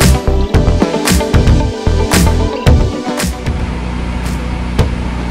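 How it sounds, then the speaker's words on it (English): Gas generator running near a welding job on a 3rd Gen 4Runner skid plate. It gives a loud, steady mechanical drone, and sharp clanks and strikes land over it in the first few seconds before the engine noise settles alone. "I'm sorry about the noise, but gotta run that generator."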